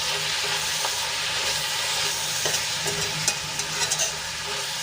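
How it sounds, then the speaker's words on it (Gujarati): Radish greens with crushed garlic and chili are stirred in a hot pan, a dense continuous sizzle with a few light scraping taps near the end, heard close without any talk. "બધું સરસ રીતે મિક્સ કરી લેશું"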